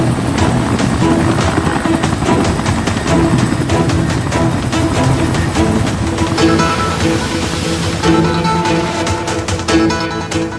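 A Bangladesh Navy helicopter roars loudly and steadily throughout, its rotor chop pulsing without pause, close and continuous with no voices over it.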